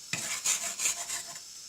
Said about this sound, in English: now we will fry the